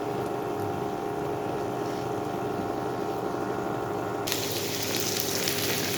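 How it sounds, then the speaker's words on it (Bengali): Eggs frying in a pan, a steady sizzle and hiss under a constant background hum, at moderate level with no talking, growing brighter near the end. "ডিমগুলো ভাজা হয়ে গেছে"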